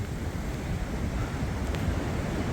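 A strong wind gust in a UK storm with 70-90 mph gusts roars steadily and loudly against the microphone, a constant rushing buffet with no speech over it.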